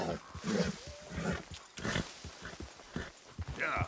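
A horse in the video game Red Dead Redemption 2 snorts, whinnies and clip-clops as it is spooked by a snake, with someone talking over it throughout.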